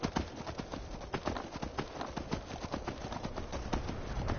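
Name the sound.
horse galloping hooves in video game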